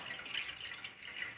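Water from soaked mappillai samba rice trickles and drips into a vessel as it is drained, a soft, faint, steady splashing with no talk.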